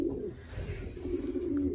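Pigeons coo in a loft, a steady low, throaty cooing that carries on throughout with faint background noise and no voices.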